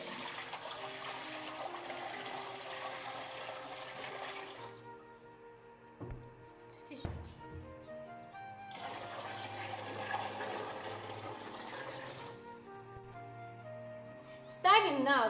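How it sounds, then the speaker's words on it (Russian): Water gushes from a tap into a large pot holding glass jars, in two long steady pours separated by a pause with a few clanks, ending in a louder splash. "Банки кладем в большую кастрюлю, заливаем водой"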